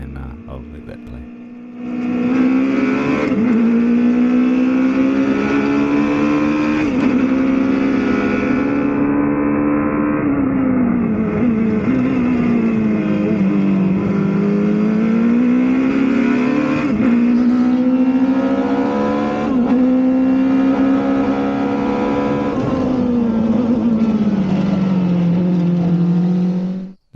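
Race cars battle on the opening lap of a racing game, with a loud, steady engine drone whose pitch rises and falls through shifts and corners, sustained for nearly half a minute.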